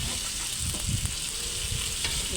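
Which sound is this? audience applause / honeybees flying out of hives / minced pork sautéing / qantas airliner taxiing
minced pork sautéing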